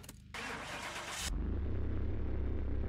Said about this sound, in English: Let's get it started up and hear that BFM engine.